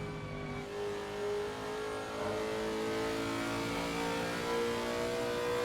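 A Lexus race car engine in a racing video game at the Nurburgring drones steadily and loudly throughout, a sustained mid-pitched hum with slight swells in revs, no voices.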